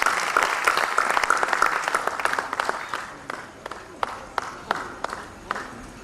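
Loud audience applause at a state-level arts award ceremony, dense clapping that thins toward the end into scattered individual claps.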